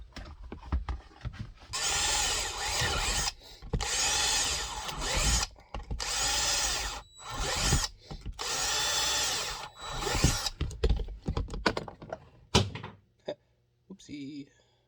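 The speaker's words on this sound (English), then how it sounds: "And drill your 1/4-inch hole." Power drill boring quarter-inch holes through a clamped workpiece, several loud whirring bursts of a few seconds each separated by short pauses, with clunks and handling knocks between them and some talk near the end.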